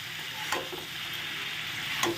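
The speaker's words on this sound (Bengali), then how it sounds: "ব্রোকলি আর আলু, সেটা আমি এবার এর মধ্যে দিয়ে দিলাম, দিয়ে ভালো করে একটু ভাজা ভাজা করে নিয়ে যাবে মিডিয়াম ফ্লেমে।" Broccoli and potato pieces frying over a medium flame, giving a steady broadband sizzle with a couple of sharp stirring scrapes, close and alone.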